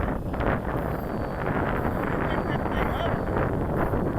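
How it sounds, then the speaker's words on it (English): Steady wind roaring and buffeting across the microphone on a small electric boat, loud and continuous for the whole stretch with a faint hiss on top. "Mostly the wind."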